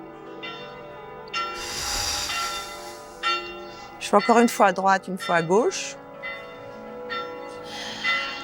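Church bells ring on a Sunday from a nearby church, a steady tolling wash with a louder burst of clangs midway, partly under a woman's spoken instructions during an exercise session.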